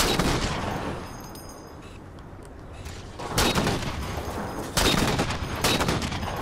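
Rapid bursts of gunfire in the video game Halo 4, with a dense rattling volley at the start, a lull, then two sharper, louder bursts later, fairly close and with no talk over them.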